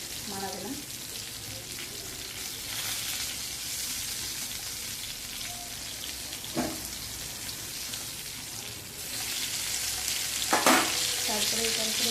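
Kebab pieces fry in oil, a steady close sizzle with a crackling, rain-like hiss that swells near the end, broken by occasional clacks of a utensil against the pan.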